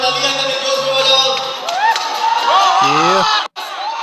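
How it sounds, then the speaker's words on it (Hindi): Crowd at an outdoor stage show cheering and clapping loudly and continuously, with shouts and excited voices over music, a brief dropout near the end. "अरे बोले तालियां करें, जोश में बजाओ।"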